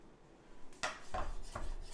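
A knife chops fresh cilantro on a cutting board in three or four crisp, close, evenly spaced strokes after a quiet moment, with no talking.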